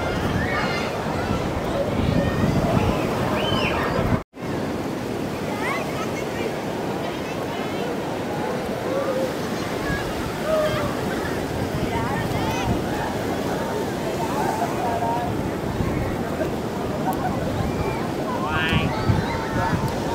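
Sea waves wash steadily along a seaside area lined with eateries, a constant loud surf roar mixed with wind buffeting the microphone, with a brief dropout partway through.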